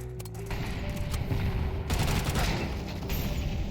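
FAMAS rifle fire in Counter-Strike crackles in rapid bursts of gunshots, a dense clattering volley with sharp repeated reports over a steady game background.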